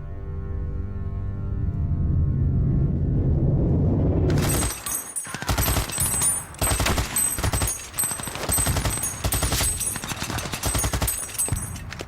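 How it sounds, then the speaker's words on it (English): German machine gun and artillery fire on a World War I battlefield at the Somme: a deep rumbling swell gives way to loud, dense bursts of rapid gunfire and blasts that continue in rattling volleys. "They emerge from their trenches to face fierce German machine gun and artillery fire."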